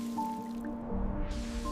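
A single water drop falls onto wet clay near an ant colony's entrance, a soft splash standing out faintly over a steady low background hum.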